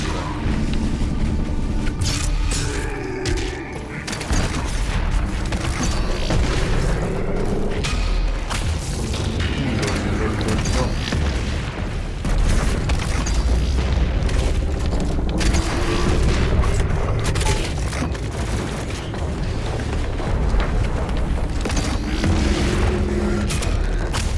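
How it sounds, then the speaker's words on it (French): Sticky bomb explosions in the game Doom Eternal on the Nightmare level, loud repeated booms and thuds over dense, continuous combat noise and mechanical clatter, with no speech. "c'est les boules collantes qui finalement tracent et restent collées au personnage, et le personnage explose"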